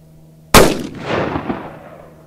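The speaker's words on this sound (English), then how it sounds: "We're going to shoot it out of a 4-inch revolver as well as a 16-inch carbine." A single loud, sharp gunshot from Fiocchi .357 Magnum 125-grain XTP ammunition fired from a 4-inch revolver at a shooting range, followed by a rolling echo that fades out.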